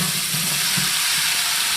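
Two kilos of onions fry in ghee in a large degchi on a stove for goat biryani, producing a dense, loud, close sizzle with bubbling pulses, heard alone.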